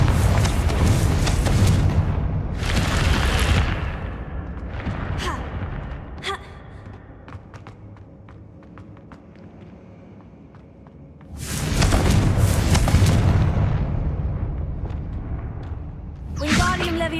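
Confringo blasting spells explode in Hogwarts Legacy, with two loud, rumbling booms that each roll on for a few seconds, fading into quieter game sounds between them and a sharp burst at the end.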